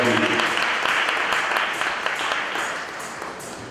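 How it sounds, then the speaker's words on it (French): A church congregation applauding during a service, dense sustained clapping that gradually fades, with voices mixed in underneath. "Joignez-nous ensemble et applaudir le Seigneur dans la vie de Dieu."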